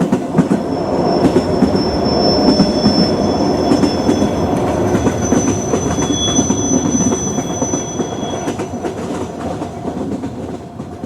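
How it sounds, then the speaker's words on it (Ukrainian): A train arriving is played as a sound effect in a children's Christmas play. A loud, continuous rail rumble with rattling carriages carries high metallic wheel squeals throughout, and no voices are heard. "До уваги пасажирів на посадку поданий потяг Різдвяний експрес."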